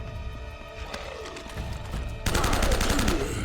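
Rapid bursts of gunfire in Uncharted, a steady rattle that grows louder and denser partway through, heard without talk.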